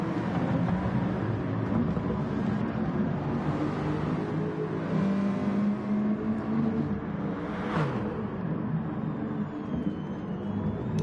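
A Mazda Atenza racing in a driving video game, its engine droning steadily and changing pitch as it accelerates, holding loud and continuous throughout without any talk.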